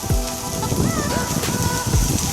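Chopped onion, garlic, green chilli and vegetables sizzle in one to two tablespoons of hot cooking oil for a vegetable momo filling, giving a steady, close hiss and crackle throughout, with a faint voice briefly underneath.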